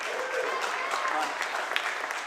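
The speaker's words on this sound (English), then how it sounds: "Let's get a round of applause for our speakers to come out." An audience applauds the speakers at the MDD 2010 after-party, dense continuous clapping at moderate level for a couple of seconds, with some voices mixed in.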